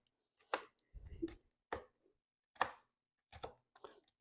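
Knife chopping ingredients on a board while making banana bread: six or seven separate chops spaced irregularly, close and fairly quiet, with no talk in between.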